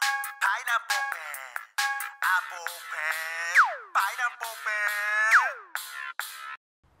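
Cartoon phone ringing with a melody ringtone, a bright, tuneful chime sequence of short notes and sliding tones repeating for several seconds, fairly loud and alone.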